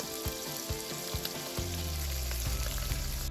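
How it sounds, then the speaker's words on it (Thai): Bacon sizzles steadily in olive oil in a hot pan, with a dense crackling frying hiss and occasional stirring clatter, close and continuous. "ผัดเจียวให้น้ำมันเบคอนออกและหอม"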